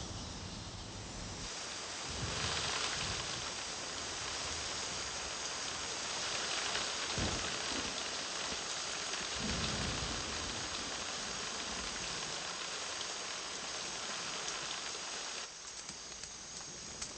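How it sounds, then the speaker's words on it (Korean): Afternoon rain pours steadily over a tropical rainforest, a dense, even hiss of drops on leaves with a few heavier bursts, continuous and enveloping with no voices. "그래서 오후에는 반드시 비가 내리기 마련입니다."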